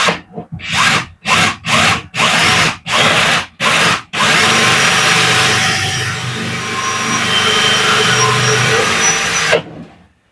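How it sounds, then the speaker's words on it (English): A power drill revs in several short bursts, then bores steadily into wood for a few seconds before stopping, loud and close. "And then we're going to drill a hole into it."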